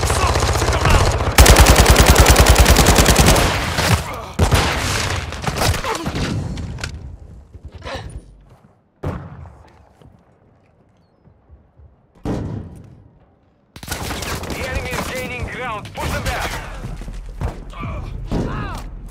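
Gunfire in the video game Call of Duty: Modern Warfare II: loud sustained automatic bursts and single shots, a quieter lull with scattered cracks, then heavy firing resumes.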